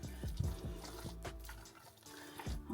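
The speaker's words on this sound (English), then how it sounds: "I'm gonna mix it on up in there, give it some flavor" Juice mixture stirred in a bowl inside a camper van, producing wet sloshing and liquid swirls with soft clinks, close and moderately loud, with no talking.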